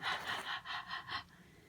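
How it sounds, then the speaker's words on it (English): Rhythmic breathy puffs, about five or six in quick succession, blown close onto a small roll of black felting wool held in the fingers while shaping a fox's eyes. "you can breathe on it"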